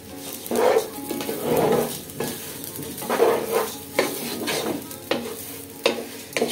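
Broken rice being stirred in hot oil in a pan with a spatula, scraping and sizzling in repeated rhythmic strokes roughly once per second, close and fairly loud with no voices.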